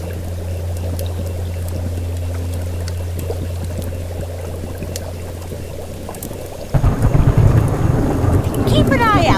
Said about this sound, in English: Splashing around,